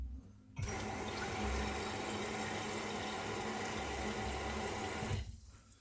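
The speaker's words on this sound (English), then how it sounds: "Or you can use some cold water." Cold water gushes steadily from a tap for about five seconds, a loud, close, continuous splashing stream that starts and stops abruptly, with no voices.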